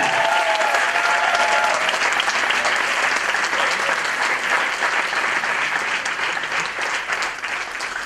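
A church congregation breaks into loud, sustained applause, dense steady clapping from a large crowd filling the room for several seconds without a break.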